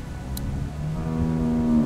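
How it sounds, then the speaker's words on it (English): A cow in The Walking Dead video game gives a long, low, drawn-out moo, heard close and alone over a faint game ambience. "Do you want to pet the cow with me?"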